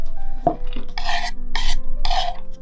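A knife finely cuts ingredients for ramen on a board, giving three rasping, scraping bursts after a couple of softer knocks, close and fairly loud with no talking.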